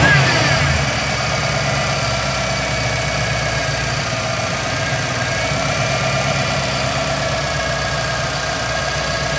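A car engine fitted with a Holley Terminator HP EFI system idles steadily and continuously at close range, a low rumbling hum that holds even throughout without revving.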